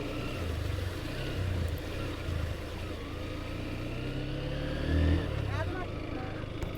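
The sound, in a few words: motorcycle riding through water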